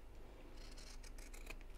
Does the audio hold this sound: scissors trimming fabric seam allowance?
yes